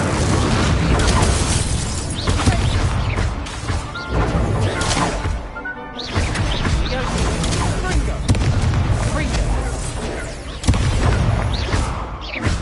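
Incendio fire spell cast during a Hogwarts Legacy duel, loud whooshing bursts and crashing impacts in a busy, chaotic exchange, with a voice speaking over the combat noise.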